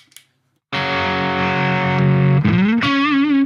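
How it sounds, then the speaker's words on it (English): A guitar played through an ENGL Steve Morse 100 tube amp with the chorus off, set to a bluesy edge-of-breakup tone; a loud sustained chord rings alone, then a bent note slides and wavers with slight vibrato. "kind of bluesy edge of breakup tones."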